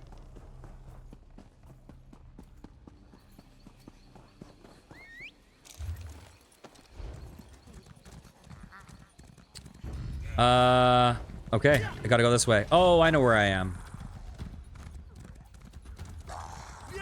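Rhythmic hoofbeats clip-clop steadily throughout in the video game Elder Scrolls Online, with a horse whinnying loudly midway and someone talking over the galloping.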